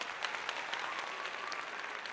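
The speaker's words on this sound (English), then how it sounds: "we're definitely going to clap on that." A small group claps for a couple of seconds, steady and dense, with no voices over it.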